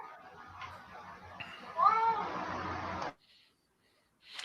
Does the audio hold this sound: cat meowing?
yes